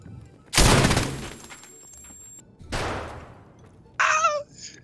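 Gunfire in Escape from Tarkov: a loud, close burst of shots followed by a second fainter burst, then a short high-pitched human yelp near the end.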